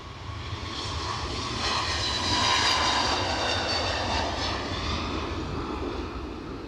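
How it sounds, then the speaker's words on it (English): A JetBlue jet airliner on its takeoff roll at Edinburgh Airport gives a sustained engine roar, heard from some distance, that swells to a peak midway and then eases slightly, with no talking over it. "Right, let's have a bit of JetBlue. Already on the roll."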